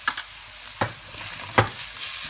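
Turmeric and coriander powder frying in a pan for chicken bhuna, stirred in a quick mix: a steady sizzle with three sharp spoon scrapes against the pan, close and without talk.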